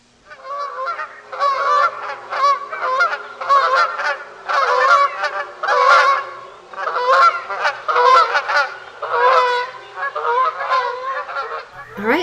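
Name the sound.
Canada goose standard honk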